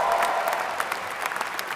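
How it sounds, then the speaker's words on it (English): A large commencement audience at a business school graduation ceremony breaks into steady, dense applause, a continuous roar of many hands clapping with a few louder claps standing out, with no voices on top. "round of applause"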